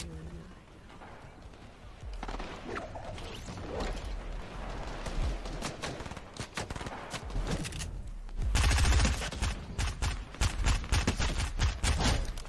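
Video game gunfire in a team rumble match, a scattered series of sharp shots, some distant and some closer, building into a louder, denser volley near the end amid mechanical clatter, with no talking.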